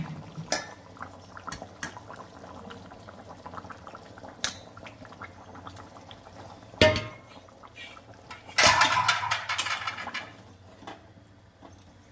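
A lid goes onto a pot of boiling fish curry with a metallic clatter, followed by a rattling burst of bubbling and clinking under a quiet kitchen background.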